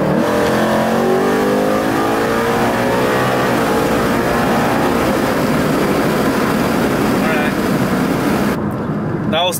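Ford Mustang accelerating hard in third gear in sport mode with traction control partly off, a loud, close engine rising steadily in pitch for about nine seconds with no talk.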